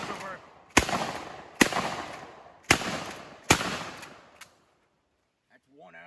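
A Winchester 1897 pump-action shotgun fires four loud, close blasts at roughly even intervals, each followed by a decaying echo, then near silence with a brief bit of talking at the end.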